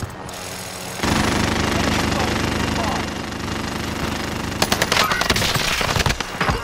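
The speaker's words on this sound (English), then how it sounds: "I'm getting shot at." Heavy automatic gunfire rattles continuously in a Warzone match as the player is shot at, loud and close, turning into sharper, more scattered bursts near the end.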